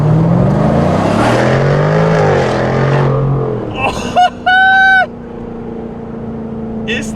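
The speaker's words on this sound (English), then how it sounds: "When the light turns green, we're gonna floor it off the line." A 2024 Jaguar F-Type R75 in sport mode launches hard from a standstill at a green light, its engine roaring loud and rising through the revs before dropping away, followed by a few short high electronic tones and a low steady hum.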